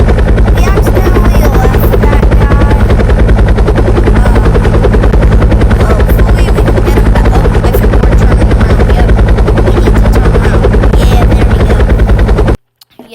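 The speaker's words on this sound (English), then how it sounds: "Look at this helicopter. It's magnificent." A helicopter in a dusty research-facility video game drones loud and close, its rotor chop a constant dense thrum lasting about twelve seconds before cutting off abruptly.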